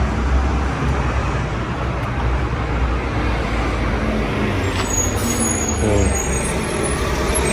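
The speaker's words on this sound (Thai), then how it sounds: "วันนี้จะเสียงดังไปหน่อยนะครับ เพราะว่ามีรถขยะออกมา" A heavy garbage truck rumbles nearby, loud and continuous, with a hiss of air brakes and engine noise over roadside traffic.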